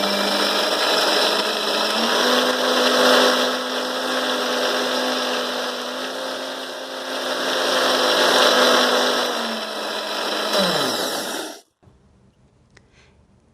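A Preethi Blue Leaf Diamond mixer-grinder runs with a loud, steady motor whine and grinding roar for about eleven seconds, then stops abruptly, leaving near silence.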